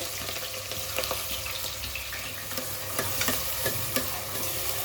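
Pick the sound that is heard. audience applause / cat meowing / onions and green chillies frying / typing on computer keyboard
onions and green chillies frying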